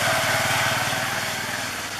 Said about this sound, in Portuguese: Uma pausa para a moto passar.